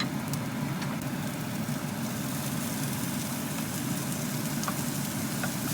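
Tuna frying in a pan with oil, onion and garlic, a steady, even sizzle with faint pops, continuous and close with no talking.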